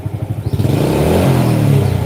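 A motorcycle engine, fitted with a full-wave electrical setup, is revved up from a pulsing idle into a steady, loud higher-pitched drone, close by with no talking.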